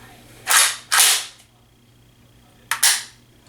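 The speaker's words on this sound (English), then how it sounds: "And now I'll show you the reset." Trigger reset clicks on a Century Arms C308 rifle, three sharp, loud mechanical snaps close to the mic, two in quick succession and then one more after a pause, with no talking.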